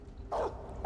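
A short dog bark in Metal Gear Solid 3: Snake Eater, one brief yelping burst followed by the start of another, close and fairly loud over faint game background.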